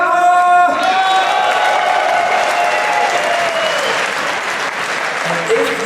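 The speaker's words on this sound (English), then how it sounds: "give a cheer for Naama!" A live esports crowd at the DreamHack Winter 2010 grand final breaks into loud, sustained applause and cheering, filling the room for several seconds after an announcer's voice.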